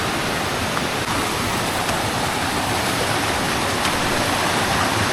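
Mountain stream water flows on Mt Napulak in Igbaras, Iloilo, a steady close rush and babble that continues evenly from start to finish with no voices over it.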